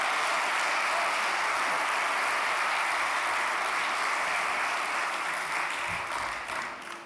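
Audience applause in support of Alexei Navalny at the 2023 Free Expression Awards, a dense, sustained wash of clapping from a large crowd that holds steady before tapering slightly at the end.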